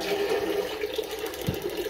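Water rushes steadily through a Junkers gas water heater as the tap is opened, a constant hissing flow close by with a brief low thump near the end.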